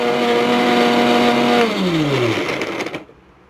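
An electric mixer grinder runs at a steady loud whine, then its pitch drops as the motor slows and winds down before cutting off into quiet.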